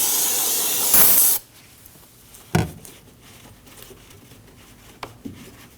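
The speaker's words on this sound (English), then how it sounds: "We'll use our brake parts cleaner and clean around the cap." Brake parts cleaner sprays in a loud, sharp hiss around a brake fluid reservoir cap on a 2003-2006 Subaru Baja, lasting just over a second, followed by a couple of sharp handling clicks and knocks.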